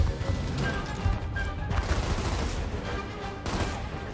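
Sustained, dense gunfire from Gears of War gameplay: rapid overlapping shots and bursts that stay loud and steady throughout, with no talk.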